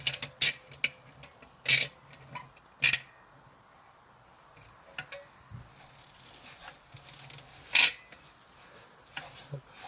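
Sharp ratcheting clicks come from a caulking gun being pumped during an animal enclosure repair. They arrive in a few close, irregular bursts over a quiet background.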